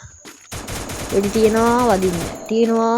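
An enemy fires down from above in a Free Fire battle royale match: rapid bursts of automatic gunfire crackle steadily, with a voice talking over part of the shooting.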